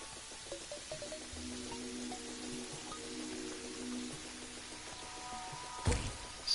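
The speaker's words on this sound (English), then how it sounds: "So much rain." Steady rain patters in the Terraria video game, a soft, even hiss throughout with a brief louder thump near the end.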